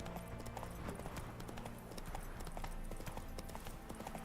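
Hooves of a galloping horse in the video game The Witcher 3, a quick steady clip-clop rhythm, close and fairly faint, continuing throughout with no one speaking.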